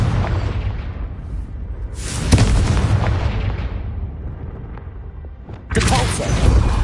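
Confringo blasting spell explosions in the Hogwarts Legacy video game, two heavy booming blasts with crackling bursts, separated by a rumbling lull and each landing loud and close.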